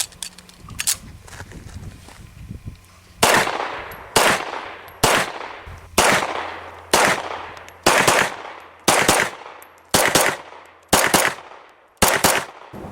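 Rock Island Armory 1911 pistol firing 9mm cartridges, about a dozen sharp shots spaced roughly a second apart, each with a short ringing tail, loud and close, after a few seconds of quieter handling noise.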